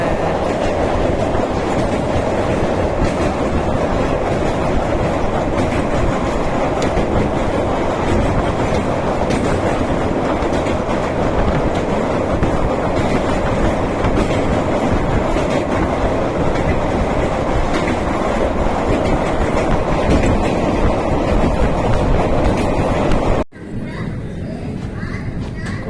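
A train rumbles loudly across a bridge over water, steady clattering wheels and carriage noise from on board, cutting to a quieter interior rumble near the end.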